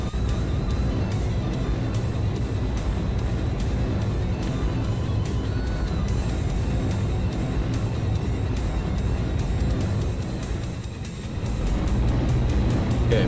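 Rocket engine roaring at launch in Kerbal Space Program, not at full power from ignition: a dense, loud, continuous rumbling roar that dips briefly near the end before surging again, with no talk.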